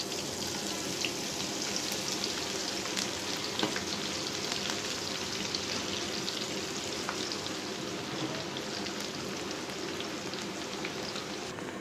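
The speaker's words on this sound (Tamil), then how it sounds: "எண்ணெய் சூடாகிடுச்சுங்க. இப்போ கொஞ்சம் கொஞ்சமாக போட்டு பொரிச்சு எடுக்கணும்." Okra pieces for lady's finger 65 frying in hot oil, a loud, dense, unbroken crackle and bubbling that holds steady throughout with no voices.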